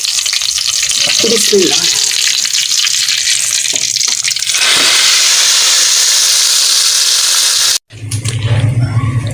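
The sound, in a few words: tadka of cumin, ajwain and red chillies sizzling in oil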